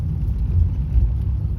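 The Słubfurt post car drives along toward the city wall, its steady low engine rumble and road noise running continuously without any talk.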